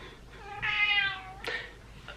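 An indoor house cat gives one drawn-out meow followed by a brief chirping second call, close and fairly soft, alone.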